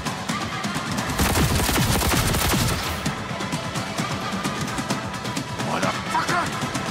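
Dense, loud bursts of shotgun fire in Cyberpunk 2077 crowd a busy firefight, with rapid overlapping blasts at first and more scattered shots later, plus a brief voice near the end.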